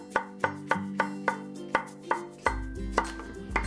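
A knife slices zucchini into half rounds on a cutting board, about a dozen crisp, evenly spaced chops close up, over faint steady background music.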